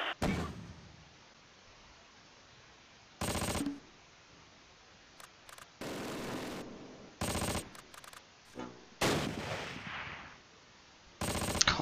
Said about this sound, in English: Just ignore that MG42 better.